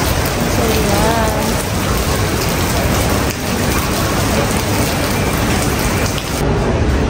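Steady, dense rain falls outdoors in Baguio near a mall and hillside bistro, a loud continuous hiss that fills the clip without a break.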